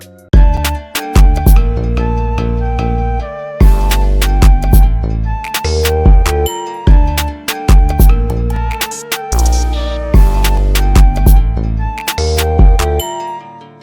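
A hip-hop beat with punchy drums and plucked melodic hits runs through a lo-fi digital crusher and retro coloring, giving a gritty, bit-reduced texture; loud and rhythmic, with short gaps between phrases and no voices.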